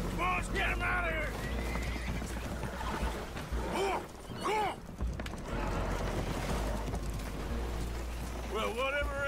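Spooked horses whinny and neigh repeatedly in Red Dead Redemption 2 over a steady low rumble, with hooves clattering and people talking in between.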